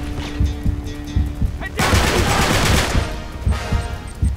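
Gunfire in Uncharted 3 at a burning château: scattered single shots at first, then a loud burst of rapid automatic fire and crackling rounds, close and sustained, with a few heavy bangs.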